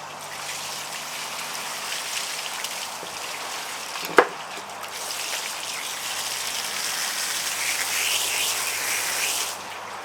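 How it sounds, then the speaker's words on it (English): A garden hose sprays water under pressure across a drip plate from an aquarium filter, blasting out small balls from its drilled holes; a steady hiss of spray runs throughout with a brief sharp knock near the middle. "And then we'll take the garden hose and under some pressure, blast all those little balls right out of the little holes drilled in the drip plate."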